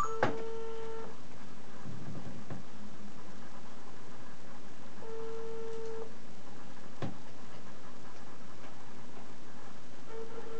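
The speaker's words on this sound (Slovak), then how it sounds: "Vytáčame." A telephone call is placed to a prize winner: a steady ringing tone sounds for about a second, repeats roughly every five seconds, with faint clicks and line hiss in between.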